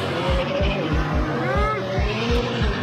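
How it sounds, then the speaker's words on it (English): An old Ford truck and a McLaren race at a drag strip, with engine roar, rising whine and tire squeal. Voices talk over the racing noise. "a tuner in an old Ford races against a rich guy with a McLaren at the drag strip"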